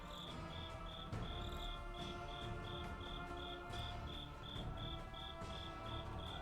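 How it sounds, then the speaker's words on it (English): Crickets chirp in a steady, evenly spaced pulse at a moderate distance over a dense background of night ambience, continuing without a break. "I hear crickets"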